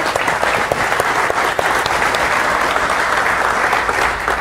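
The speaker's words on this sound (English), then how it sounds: "So big round of applause for them." Loud, dense audience applause at a talk on Google open source software, a continuous close roar of many hands clapping that holds steady throughout.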